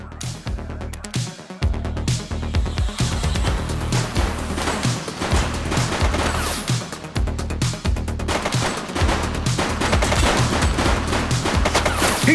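Rapid bursts of gunfire from a suspect in a police video game, loud and dense with overlapping shots rattling almost continuously and a brief lull near the start.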